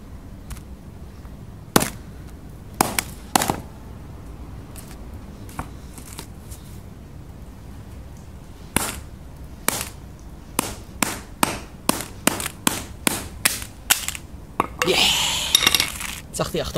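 A Nokia mobile phone being cut in two, heard as scattered sharp metallic snaps and clacks, some isolated and others in quick bursts, with a harsher grinding scrape near the end and no talking.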